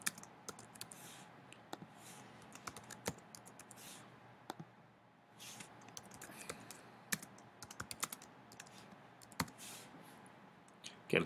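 Computer keyboard typing while entering answer choices for a quiz, a steady run of close, fairly quiet key clicks in irregular bursts with a few brief pauses and no talking.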